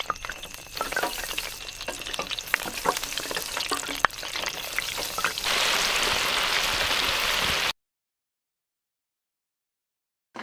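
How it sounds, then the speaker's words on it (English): Fish sizzling and bubbling in an outdoor deep fryer on a porch, a steady loud frying hiss that cuts off abruptly near the end. "I've got my deep fryer over on the other side of my porch."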